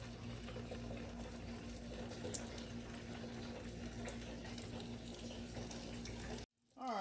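Diesel fuel drains steadily from a Mercedes 300 SD into a catch container, a constant close liquid rush with a low hum beneath, running without pause before cutting off abruptly near the end.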